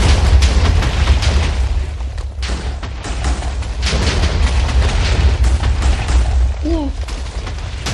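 Minecraft-style TNT cluster bomb explosions go off in a video game as a dense, continuous barrage of booms and rumbling blasts, loud and close, while a voice speaks briefly over them.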